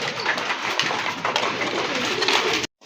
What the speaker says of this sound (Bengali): এক জোড়া কবুতর দেখতে পাচ্ছেন, শার্টিন কবুতর, ব্লু শার্টিন কবুতর। এটা কিন্তু খুব ভালো ডাকে